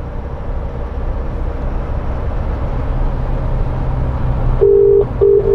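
Inside a Mercedes-Benz Sprinter 314 CDI van, a phone call placed through voice control gives two short electronic tones near the end, over a steady low cabin and road rumble.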